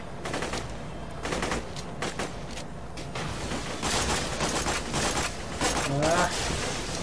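Repeated bursts of video game gunfire from Borderlands 2, Tiny Tina's Assault on Dragon Keep, during a dragon fight, loud rapid volleys with short gaps between them, a voice talking over the shooting.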